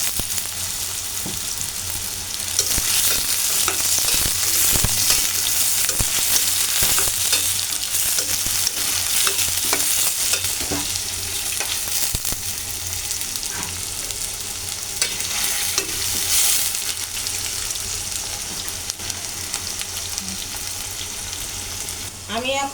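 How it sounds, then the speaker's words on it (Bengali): Potatoes fry with onion and chili in hot oil, a steady close sizzle broken by occasional scrapes and clinks of stirring, running without pause. "আমি আলুটা পেঁয়াজ মরিচের সাথে ভালো করে একটু ভেজে নেব।"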